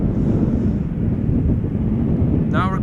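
Strong wind buffeting the microphone at Schiphol Airport, a steady low roaring rumble throughout, with a voice briefly starting near the end.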